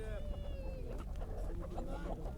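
Chickens and roosters cluck and squawk amid a noisy, busy poultry market crowd in Isparta; a rooster-like call rises at the start over steady background chatter.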